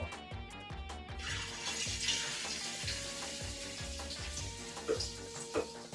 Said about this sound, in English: take a small spoonful of it, going to plop that right into our pan